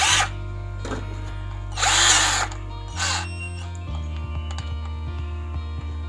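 A Mollar CDD 585 12V cordless drill runs steadily at its second speed setting, a continuous close motor whine with two brief louder bursts and a slight shift in pitch partway through.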